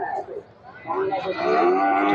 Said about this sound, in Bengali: যারা এই ফিজিয়ান জাতের গরু কিনতে চান তারা চলে আসবেন আমাদের এই হাটে